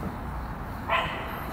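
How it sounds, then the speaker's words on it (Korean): Dog barks once, a single short yelp-like bark at a distance in Dosan Park before dawn, over a steady hiss of background ambience. "개가 짖는군요."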